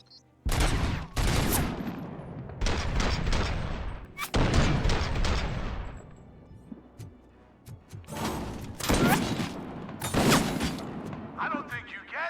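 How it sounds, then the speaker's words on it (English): Sniper gunfire in the distance during a video game, arriving as several sharp, loud volleys separated by brief lulls, with some speech mixed in. "Snipers in the distance."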